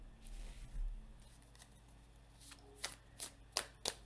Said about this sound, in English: Let's get an oracle card to tie this together.